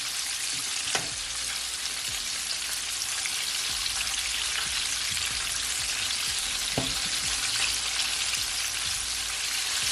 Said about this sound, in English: I did say allow them to fry for at least 5 to 6 minutes on each side.